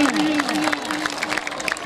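A crowd applauding at a village volleyball tournament, with claps and crowd noise under an announcer's amplified voice that carries on through it.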